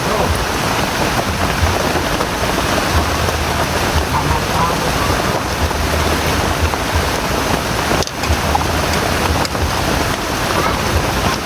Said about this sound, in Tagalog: Sobrang ulan mga boss, ulan na naman.